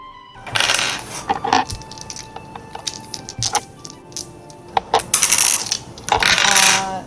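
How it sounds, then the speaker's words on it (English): Dice being pulled out and rattled at a tabletop roleplaying game session: a run of close, sharp clicks and clattering bursts, several separate rattles with quieter gaps between them. "I gotta get my dice out."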